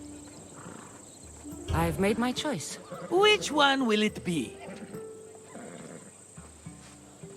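A horse in Assassin's Creed Odyssey gives two loud, close whinnies in quick succession, with hooves clopping and game characters talking around them.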